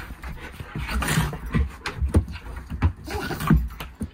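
An excited dog whimpers and cries in short, wavering whines mixed with panting and thumps, close and fairly loud against a noisy outdoor background at an off-grid homestead.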